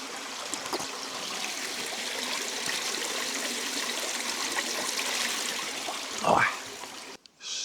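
Natural spring water in a Latvian nature park flowing and trickling steadily nearby, a continuous close babbling wash that keeps up for several seconds before a brief louder splash near the end, heard alone with no talking.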